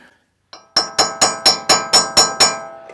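A sharp metallic tapping, eight evenly spaced ringing strikes of a chisel on a 2011 Toyota Tundra hub cap, close and loud, each note decaying briefly before the next.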